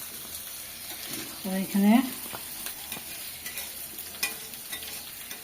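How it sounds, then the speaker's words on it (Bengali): Fish slides into hot oil with onion, garlic, chilli and turmeric, and a steady close sizzle fills the background, with a brief stir and someone speaking. "এই যে মাছ দিয়ে দিচ্ছি।"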